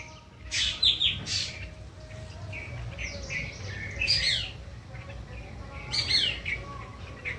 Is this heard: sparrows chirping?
yes